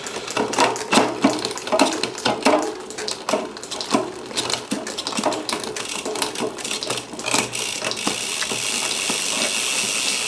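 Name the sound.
pumping lubricant onto a bike cassette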